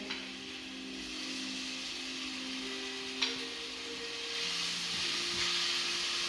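Food frying in a pan for lasagna gives a steady, fairly quiet hiss and sizzle throughout, growing slightly stronger toward the end, with a faint tick partway through and no talking.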